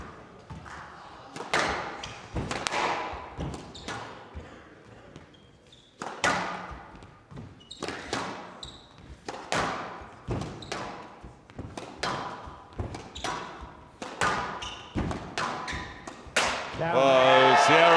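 A squash ball struck hard again and again during a rally at a professional men's quarter-final, with sharp, echoing thwacks off racket and walls in an irregular rhythm and crowd noise swelling at the end.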